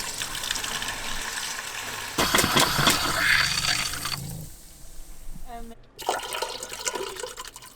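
Water gushes and rushes steadily through boat plumbing as a pump pushes antifreeze through the pipes during winterizing, loud and close, with the flow surging and then dropping off partway through.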